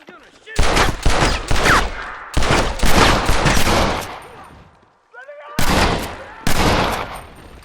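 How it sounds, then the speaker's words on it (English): Bursts of gunfire in the Red Dead Redemption video game come in loud, close volleys separated by short pauses, with dense rapid shots in each burst. "I'm gonna shoot."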